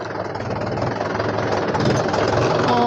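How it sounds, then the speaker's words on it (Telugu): Mahindra 415 DI tractor engine running, a steady loud diesel chug with a rapid knocking rhythm, close and continuous. "స్టార్ట్ అయింది ఫ్రెండ్స్ బండి పవర్ కూడా మంచిగానే ఉంది"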